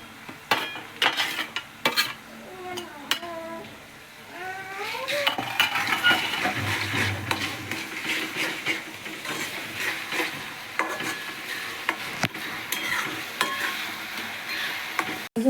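Onion fries in a pan for pav bhaji while a utensil stirs it, producing an ongoing sizzle with frequent clinks and scrapes against the pan. A few brief high tonal sounds rise over the clatter early on.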